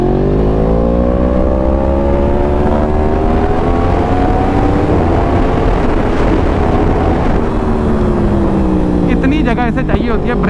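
A Yamaha R1 superbike accelerates hard on the road with a loud, continuous engine note climbing steadily in pitch, buffeted by heavy wind roar close to the microphone.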